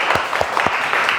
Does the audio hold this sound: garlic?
no